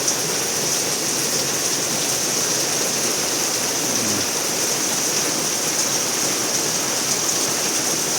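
Heavy, continuous morning rain pouring down in a steady, dense hiss that never lets up, loud and close with no voices.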